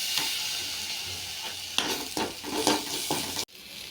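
Onion, garlic and ginger-garlic paste sautéing in hot oil for cabbage Manchurian, a steady close sizzle broken by several scraping stirs of a spoon against the pan before it cuts off abruptly.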